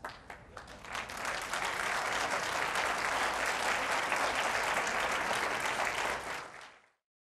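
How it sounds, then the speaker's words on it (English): An audience at a televised heart-health challenge breaks into sustained, dense applause that builds quickly, holds steady for several seconds and then fades out, with no speech over it. "A big round of applause for our young people."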